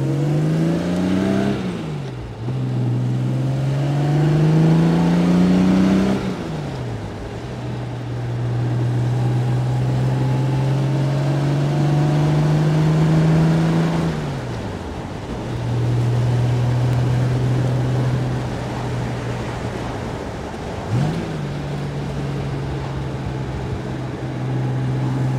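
A 1964 Jaguar 3.8 liter Series 1 roadster engine drives on a twisty road, revving up and dropping back through several gear changes. The strong steady drone climbs in pitch with each pull and stays loud and close throughout.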